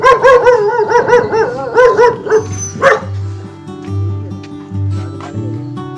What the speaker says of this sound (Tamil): ரெண்டு நாட்டு நாய் வச்சுருக்காங்க ராஜபாளையம் நாய்னு நினைக்கிறேன்